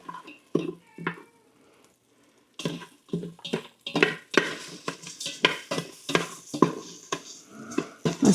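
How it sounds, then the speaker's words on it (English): Steel cut oats and cinnamon stirred into hot butter in a multicooker pot, a spoon scraping and clinking against the pot in close, irregular strokes after a short quiet pause, with a faint sizzle underneath. "stir until the oats absorb all the butter"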